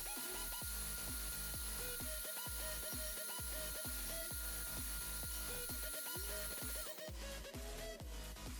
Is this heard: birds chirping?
no